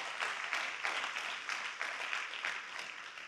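Audience applause following a motivational speech on stage, a steady wash of clapping with rhythmic surges, fairly loud and continuous with no talking over it.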